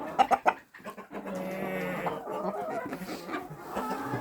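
A flock of chickens with a rooster clucks and squawks nearby, with a few sharp bursts at the start followed by busy overlapping clucking.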